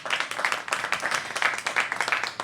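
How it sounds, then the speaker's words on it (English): A small audience claps at a Shaw Main Streets ribbon cutting ceremony, a brisk round of individual hand claps close by, steady and moderately loud for a couple of seconds. "Give Stan a big round of applause."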